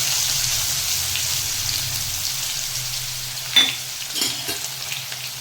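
Crushed ginger-garlic paste and black cumin hitting hot oil in a pan, a steady close sizzle with a couple of sharper spits and crackles partway through.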